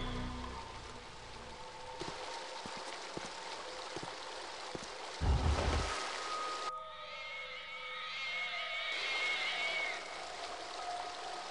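In the video game The Dig, water pours through a hole with a steady rushing wash, joined partway through by louder splashing and a brief deep thump, over quiet game ambience.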